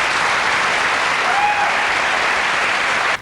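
An audience at a televised interview breaks into sustained, dense applause, loud and steady throughout before cutting off abruptly at the end.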